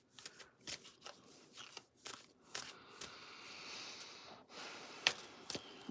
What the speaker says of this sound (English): Let me pull a card for you.